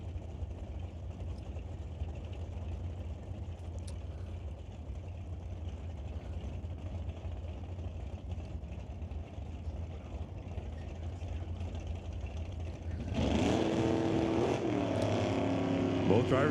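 At an NHRA drag strip, Dodge and Chevrolet drag cars with 500-cubic-inch engines launch off the line, their engine roar surging in abruptly near the end after a long stretch of quieter background rumble.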